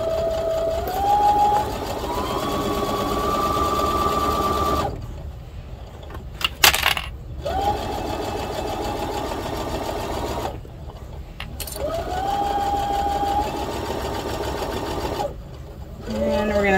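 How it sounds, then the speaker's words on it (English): A serger sewing machine stitches along fabric edges for a garden kneeling pad, whirring steadily in three long runs split by brief pauses, with a voice talking over it. "You can just serge those edges and then it'll be fine."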